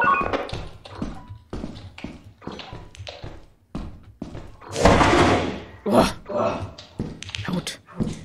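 A door opening in the video game Lethal Company, heard as a loud, broad burst near the middle of the clip. Frequent short taps and thuds run throughout, and a person talks over it.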